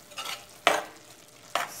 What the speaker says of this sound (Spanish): Lo voy a revolver todo para que